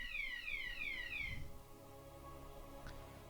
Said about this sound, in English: Fire alarm test. Happens every Thursday.